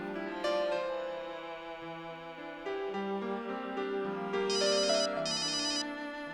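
A melodic electronic phone ringtone plays alone, a repeating synthetic tune with bright chiming notes, moderately loud and close.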